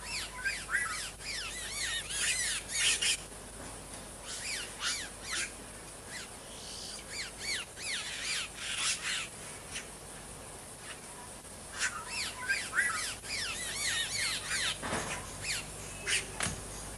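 Boyero birds nesting in pindó palms at a busy spot, a chorus of harsh squawking calls repeating in bursts over a steady outdoor background, moderately near.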